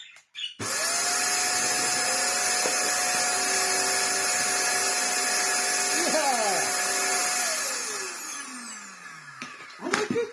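A Shark Stratos vacuum cleaner, just repaired after a clogged floorhead, whirs loudly and steadily with a high whine for about seven seconds before winding down, with brief handling noises at the start and end.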